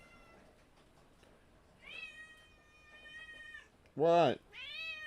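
A house cat meows twice in the room, a drawn-out call followed by a louder, sharper one, with a person briefly speaking nearby.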